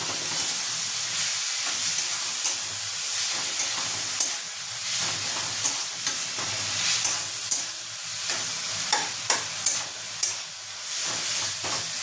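Green chilies and spices stir-fried in oil for a Bengali potol (pointed gourd) and prawn curry: a steady, even sizzle with scattered sharp scrapes and clicks from a spatula, no voices.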